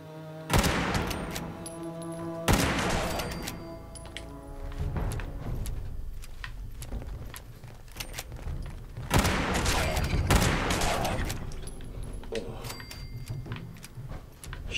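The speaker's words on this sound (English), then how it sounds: "Shooting at its fucking finest." Rapid bursts of gunfire in Fallout 76 on Xbox One, inside the Charleston Capitol Courthouse, come as loud fusillades in several clustered volleys with booming impacts across the whole stretch.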